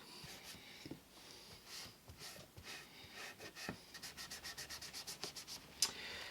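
Hand sanding the finish of a 1973 Fender Telecaster with 800-grit paper: close, soft rhythmic scrubbing strokes that speed into a steady run of quick back-and-forth rubs, fairly quiet and with no talking.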